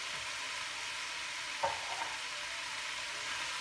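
Fried herbs being stirred together with onion in a pan for Ghormeh Sabzi, giving a steady, faint sizzle with a single soft scrape of the utensil partway through.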